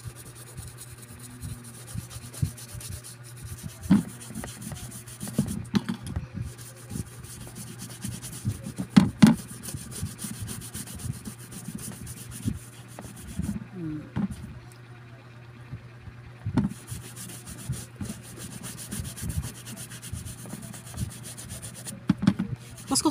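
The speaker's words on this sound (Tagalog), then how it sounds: "Kuskusin natin ng mabuti guys." A brush scrubs dirt off a child's shoe in steady, repeated rubbing strokes, close and moderately loud, with a constant low hum running underneath.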